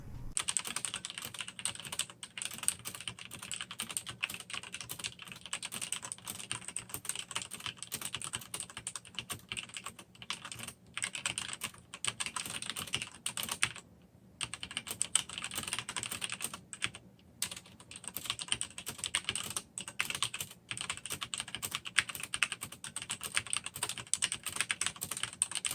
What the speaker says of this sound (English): here is a typing sample of the red switches